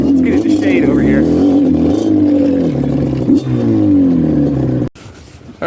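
A 1997 Yamaha Banshee quad with a 370 triple-port Athena kit revs hard and close, its two-stroke engine rising and falling in sharp surges with a brief cut near the end, in a snowy riding setting.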